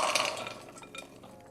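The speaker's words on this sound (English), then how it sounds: "So I've got some frozen blueberries here, and they're gonna go into our pot here" Frozen blueberries tumble into a metal pot, giving a brief cluster of close, light clattering taps and rattles that quickly thin out into a few scattered clicks.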